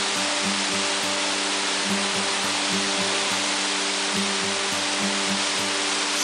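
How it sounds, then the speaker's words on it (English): Running water in the backcountry at Crater Lake National Park, a steady broadband rush like a nearby stream or falls, loud and constant, with a faint repeating musical pattern underneath and no talking. "Hey, yeah, I think it sounds like water."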